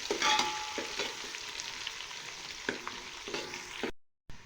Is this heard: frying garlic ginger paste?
yes